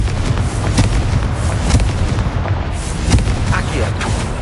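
In Hogwarts Legacy, a Confringo fire spell bursts with a dense, continuous rumbling roar of explosions, loud and close throughout, with a game voice mixed in.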